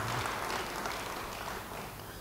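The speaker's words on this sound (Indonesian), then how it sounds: "Beri tepuk tangan bagi dia." Church congregation applauding, a broad, continuous patter of many hands clapping that holds steady and fades slightly toward the end, heard without speech.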